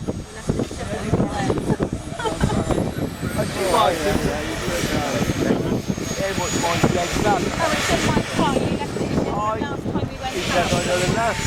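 A Tomahawk Ventura turbine jet model aeroplane flies at a model show, its steady whining roar sustained and fairly loud throughout, with a high turbine tone drifting in pitch while people talk nearby.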